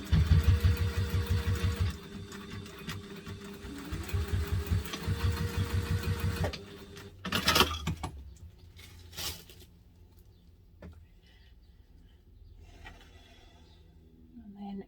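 A sewing machine runs in several steady bursts while stitching the seam of a double zip mini wallet, close and fairly loud, then stops, leaving fainter handling noises and brief rustling.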